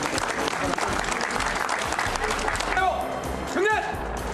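Steady applause from a large audience at an informal political gathering fills the whole stretch, dense and sustained, while cheering voices and talk rise over it near the end.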